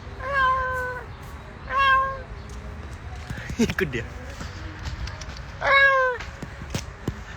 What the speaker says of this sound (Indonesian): Itu kalau bunyi itu bunyi kucing gatal.